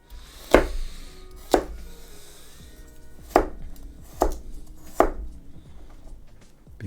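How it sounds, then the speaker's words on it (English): Knife chops on a chopping board while cooking, five sharp, separate cuts landing at uneven intervals, close and fairly loud, with faint kitchen hum between them and no voices. "I can hear your chopping board. Every single cut."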